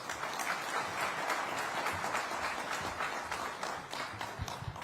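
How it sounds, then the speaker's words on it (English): Sustained audience applause at the inauguration of the Maharashtra Maritime Summit 2025, dense steady clapping from a large crowd filling the hall throughout, with no talk over it. "Huge round of applause once more."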